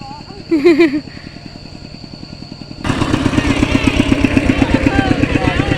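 A farm tractor used for rice-paddy work starts up partway through, its engine settling into a loud, steady pulsing rumble close by, after an earlier stretch of quieter idling with a brief voice.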